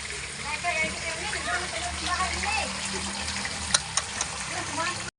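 Floodwater from a river pours into a house, a steady rushing gush filling the room with a few sharper splashes near the end while someone talks over it.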